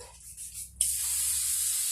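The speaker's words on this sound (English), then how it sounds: "to hold the curl, I'm going to spray it" Hairspray hisses steadily from an aerosol can onto a snow-white styling wig, one long continuous burst starting abruptly after a brief quiet moment and held close and fairly loud.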